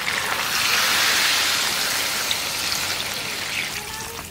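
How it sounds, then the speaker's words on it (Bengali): Water poured into a pot of mutton curry with potatoes, a continuous splashing, trickling rush that swells early and tapers slightly, close and unaccompanied by talk. "এবার জল দিয়ে দেবো।"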